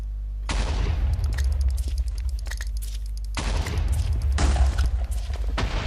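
Grenades go off in a paintball mod of a video game: two loud booming blasts, each followed by crackling, rumbling debris and scattered pops, about three seconds apart.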